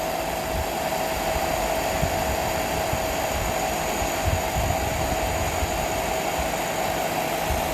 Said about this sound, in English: So I'm using a hairdryer over here.